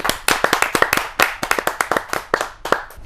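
Audience at a Hindi poetry gathering clapping for a woman poet as she is invited to the stage, dense close applause with sharp individual claps in an irregular rhythm, loud and without talk.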